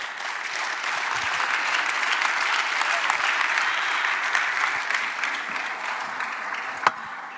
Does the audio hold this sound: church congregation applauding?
yes